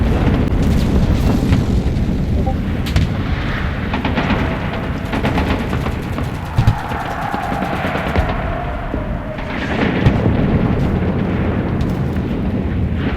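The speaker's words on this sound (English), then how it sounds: "Artillerie! Feuer auf den Platz!" Artillery barrages rumble through a World War II shooter game battle in Enlisted, a loud, dense, continuous wall of booms and distant gunfire lasting throughout without letup.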